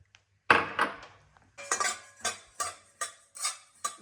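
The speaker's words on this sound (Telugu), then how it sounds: "ధనియాలు వేస్తున్నాను." Coriander seeds tipped into a pan for homemade chicken pickle, then stirred with a metal spoon: a loud clattering pour followed by a run of regular scraping and clinking strokes, close up, no talk.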